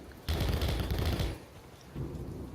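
Bursts of gunfire in the side-scrolling action game Rocketbirds: Hardboiled Chicken, a loud dense volley for about a second, then a quieter rumbling burst trailing off.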